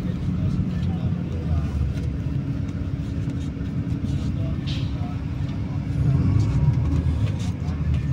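Heavy road traffic in Santo Tomas, Batangas rumbles steadily and low, a dense continuous engine drone that swells slightly toward the end, with muffled talk mixed in.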